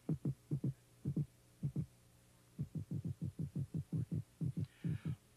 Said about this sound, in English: uses a loud drumming to declare territorial rights around his selected nesting site